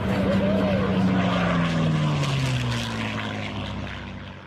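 A P-51H propeller fighter plane drones past with a steady, loud engine roar whose pitch slowly falls as it moves away and fades toward the end.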